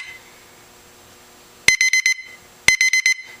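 Cliff Keen G8 wrestling clock buzzer sounds at the end of a period in two loud bursts, each a quick run of four or five sharp, piercing electronic beeps, after near silence.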